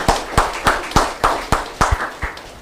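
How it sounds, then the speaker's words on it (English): Clapping at a NEET PG coaching class awards announcement: about nine sharp, evenly spaced claps in steady rhythm, fairly close and clear, with no speech over them. "Oh, come on, give another big clap."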